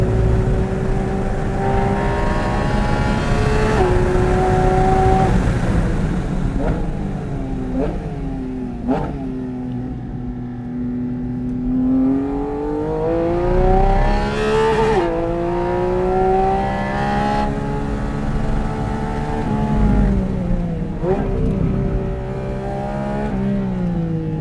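A modified Porsche GT4 RS runs a track lap, its engine loud and close as it revs up through gears, drops on shifts and climbs again in sweeping, continuous waves.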